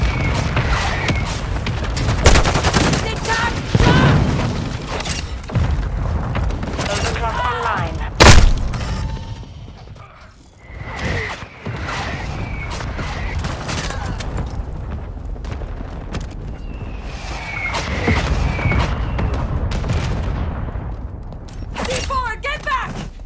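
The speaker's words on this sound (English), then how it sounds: "Hostile mortar strike near your position." Call of Duty: Modern Warfare 2 battle with bursts of gunfire and heavy booming mortar strike explosions, loud and close, with a sharp blast midway, mixed under radio-style game voice announcements.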